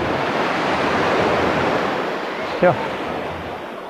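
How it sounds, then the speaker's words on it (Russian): Steady wash of surf breaking on a beach beside a hotel pier in Alanya, mixed with wind buffeting the microphone; a brief spoken word cuts in near the end. "Вот пирс, флаги Gold City и вот такой тут пляж."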